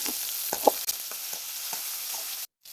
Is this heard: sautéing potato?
yes